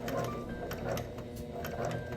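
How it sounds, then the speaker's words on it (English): A sewing machine stitches along the edge of denim jeans, a steady close mechanical whir with a rapid, regular pulsing rhythm and no speech. "Take it to your sewing machine and you will just stitch along the edge right here."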